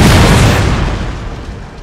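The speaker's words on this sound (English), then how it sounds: "here comes some artillery" A single heavy artillery boom from a Napoleonic cannon in a street battle at Dresden in Napoleon Total War, loud and close, fading into a rolling rumble over nearly two seconds.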